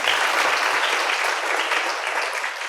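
An audience claps in a lively burst of applause at a women-in-science event, close and loud, holding steady for a few seconds with no voices.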